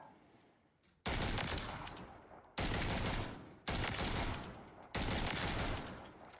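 Sidewinder gun in the Modern Warfare 3 video game firing four loud, heavy shots at a slow, steady pace, each blast leaving a long decaying tail before the next.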